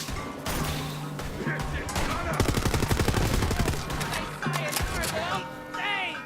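Rapid bursts of automatic gunfire from the video game Borderlands 3 rattle up close, mixed with thuds and mechanical clanks while game character voices speak over the shooting.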